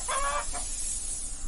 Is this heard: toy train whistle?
no